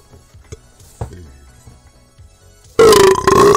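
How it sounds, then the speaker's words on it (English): A long, loud, croaking burp bursts in near the end, following a stretch of faint clicks and scattered low thumps in a quiet room. "stop burping!"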